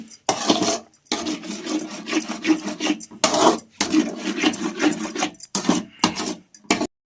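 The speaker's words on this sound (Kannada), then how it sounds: "ನೀಟಾಗಿ ಇದನ್ನ 10 ನಿಮಿಷಗಳ ಕಾಲ ನೀಟಾಗಿ ಈ ರೀತಿ ಕೈ ಬಿಡ್ದಂಗೆ ತಿರ್ಗಿಸ್ಕೊಂಡ್ರೆ ಈ ರೀತಿ ನಿಮಗೆ ಹೂರಣ ರೆಡಿ ಆಗುತ್ತೆ" Sweet holige filling being stirred in a pan, a rhythmic scraping and rubbing of the spoon against the pan in repeated strokes with brief pauses between them.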